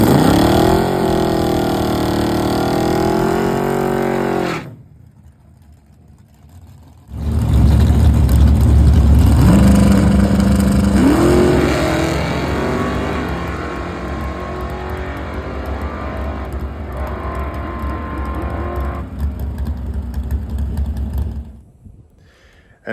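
A loud Plymouth Barracuda drag car engine roars and revs, briefly drops away, then surges back hard through rising gears down the drag strip for a long, sustained run before cutting out.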